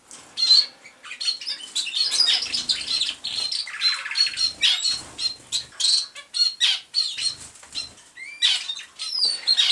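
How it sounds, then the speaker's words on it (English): An American singer canary singing like a roller canary, with continuous rapid chirps, trills and warbles close by, broken by brief pauses and wing flutters. "this American singer who's chowing down seems like a roller canary"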